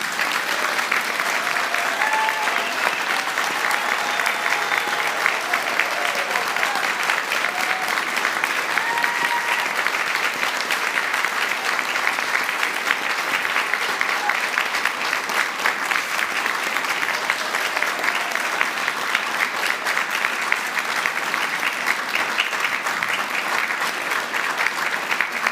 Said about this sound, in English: let's give this amazing group of people another round of applause.